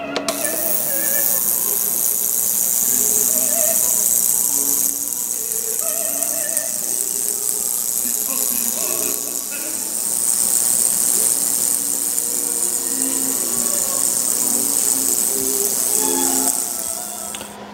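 A cleaning machine for parts of a 1934 Ingraham Bedford wall clock runs steadily with the parts submerged in water, giving a continuous buzzing, rattling hum with a bright hiss that holds nearly unchanged from start to finish, with no talk.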